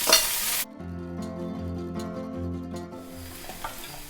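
Ginger, bajji chilies and curry leaves hit hot oil in a pan, opening with a loud hiss that settles into steady sizzling with stirring scrapes, no voices.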